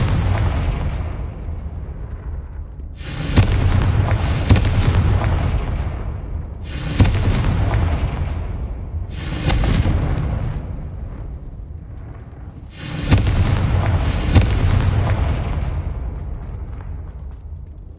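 Blasting spell explosions fired in the video game Hogwarts Legacy: four loud, booming detonations spaced a few seconds apart, each with a sharp crack followed by a rumbling decay, with no voices.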